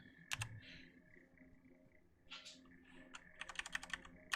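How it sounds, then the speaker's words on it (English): Computer keyboard typing in a quiet room: a short burst of keystrokes, a pause, then a denser run of quick clicks near the end, with no talking. "It's been a bit since I've actually typed the command."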